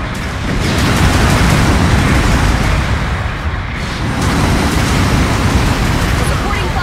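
Long-range supporting fire in a Gundam mobile suit game lands as a continuous rumbling barrage of explosions, loud and dense with a brief dip midway.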